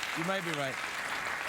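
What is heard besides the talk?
studio audience applause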